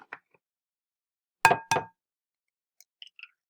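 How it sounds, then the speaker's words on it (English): Eggs cracked one at a time into a bowl for cake batter: two sharp shell cracks in quick succession, then a few faint taps and drips, close and clear against silence. "you're going to crack them into the bowl"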